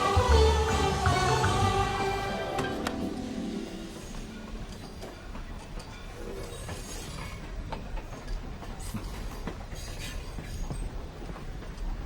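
A train rumbles past in a film scene at a railway station, loud at first with wheel clatter and screeching, then easing into a steadier, softer roll with scattered clanks.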